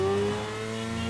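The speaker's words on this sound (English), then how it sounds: "Now this is a BMW S1000RR." A BMW S1000RR racing motorcycle engine holds a loud, steady high rev, a close, continuous buzzing drone without talk.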